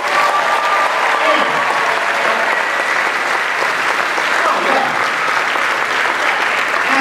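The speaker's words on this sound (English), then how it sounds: "Let's give our seniors a round of applause" A school audience claps steadily for seniors at an awards event, dense and loud applause running unbroken throughout.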